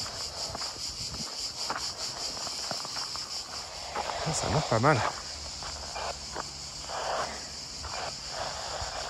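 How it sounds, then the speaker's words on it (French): Cicadas shrill in a constant high buzzing drone in dense brush outdoors, while someone speaks briefly nearby and footsteps and rustling come and go through the thick growth. "On entend bien les cigales aussi."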